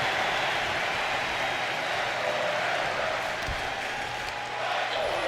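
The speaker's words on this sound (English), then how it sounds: "Crowd here in Philadelphia is loving the action" A video game arena crowd in Philadelphia during a WWE 2K25 wrestling show keeps up a steady, dense roar of cheering and applause that holds level throughout without letup.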